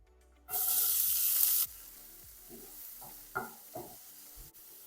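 Chopped garlic and onion hit a hot pan with olive oil in a loud burst of sizzling, which then settles into a quieter crackle with a few scraping stirs.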